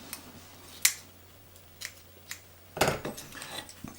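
Small scissors snip the edges of CDC feather fibers held in a fly-tying tool while tying a tungsten nymph, giving a few sharp, faint clicks spread across a quiet room with no talking.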